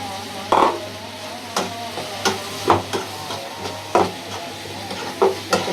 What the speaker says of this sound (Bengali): সুন্দর করে ভাজা ভাজা করে পরে মশলাটা দিয়ে দেবো।